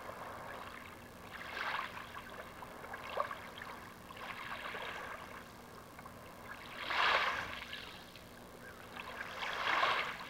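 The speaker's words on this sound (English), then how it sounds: "as you hear these sounds of the waves coming in and out" Ocean waves wash in and out on a beach in gentle, rhythmic swells, with a surge every few seconds and the louder breakers coming near the end, and no voices.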